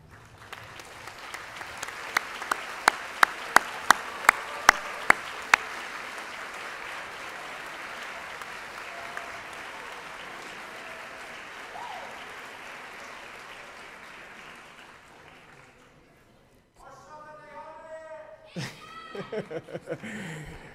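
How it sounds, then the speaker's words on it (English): Audience applause fills a graduation commencement hall, a broad steady wash of clapping with a few sharp close claps early on, fading out before murmuring voices and brief talk near the end. "turn around, face the audience, and applaud your family and friends for their unwavering support"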